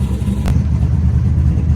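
A car engine idles steadily during a coolant refill, a low continuous rumble up close with no pauses.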